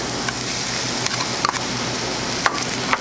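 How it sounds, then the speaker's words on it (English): Shallots and mushrooms sautéing in a pan make a steady, quiet sizzle with a few faint ticks and clinks of stirring. "I'm going to saute this up."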